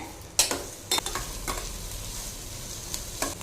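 Vegetables sauté in butter in a pan for an egg soup, with several sharp stirring scrapes against the pan over a steady low sizzle.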